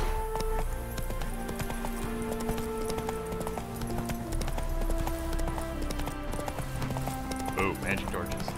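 A horse gallops in The Witcher 3, with dense rhythmic hoofbeats running throughout beneath game music and steady speech.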